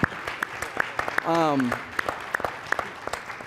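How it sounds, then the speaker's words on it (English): A conference audience at a housing summit plenary gives a round of applause, scattered sharp claps spread through the clip, with a brief tonal voice or cheer rising in the middle. "Give them a round of applause."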